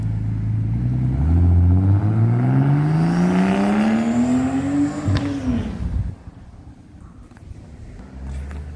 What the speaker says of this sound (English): People like to hear drive-away sounds,